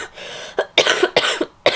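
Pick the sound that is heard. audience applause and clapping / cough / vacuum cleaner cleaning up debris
cough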